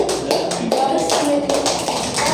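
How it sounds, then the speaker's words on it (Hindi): Applause from a classroom audience during a lecture: a dense patter of many hands clapping close by, with a few brief surges and some voices mixed in. "चलो तालियां हो जाए।"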